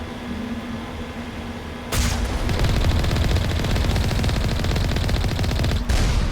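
Automated turrets firing on the moon in Mass Effect Legendary, a dense continuous burst of rapid gunfire kicking in after a quiet electronic hum and running loud and unbroken for several seconds.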